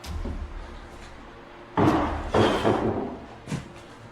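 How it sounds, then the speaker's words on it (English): Something wooden slams or tumbles down indoors in a house, giving a heavy crash followed by a second rattling impact and a smaller knock after, fairly loud against a quiet room. "there's a loud sound of something wooden slamming or falling down"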